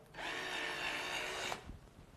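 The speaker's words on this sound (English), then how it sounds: "And when I turn on the drill," A power drill spins a wheel mounted on a bicycle-like vehicle, a steady high-pitched whirring whine that runs for about a second and a half, then cuts off abruptly, leaving light thumps and rustling.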